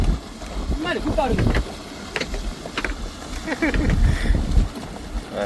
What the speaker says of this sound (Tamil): அதில் ஒரு போட் ஒன்று வருது